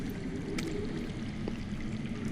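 Water flows underground in a Game of Thrones video game scene, a steady soft trickling and rushing wash with a couple of faint clicks.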